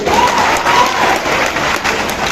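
A rally crowd claps steadily, a dense, loud wash of applause that holds evenly throughout with no voice over it.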